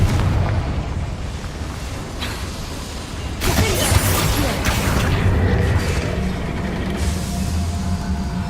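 A Confringo fire spell blast in Hogwarts Legacy, cast in a boiler area, bursts out as a loud booming explosion partway through, followed by sustained rumbling and crackling under steady ambient game noise.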